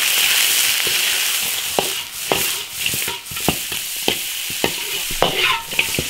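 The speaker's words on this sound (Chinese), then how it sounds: "油热了，鸡子直接下锅炒。" Chicken pieces stir-fried in hot oil in an iron wok, a loud constant sizzle broken by sharp scraping strokes of the spatula at an irregular rhythm, close up.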